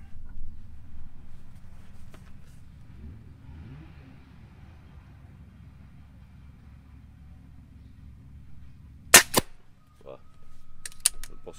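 A Stoeger XM1 20-joule air rifle fires an H&N pellet at a 30-metre range, one sharp close crack after a low rumbling background, followed by a few fainter clicks of handling.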